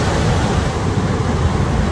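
Rough, heavy surf at Virgencita beach in Colima rolls in as a loud, continuous wash of crashing waves and churning water, broad and steady throughout with wind noise mixed in.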